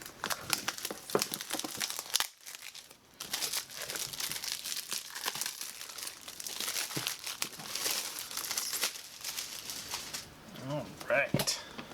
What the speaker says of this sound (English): Go ahead and slice right on into the plastic here.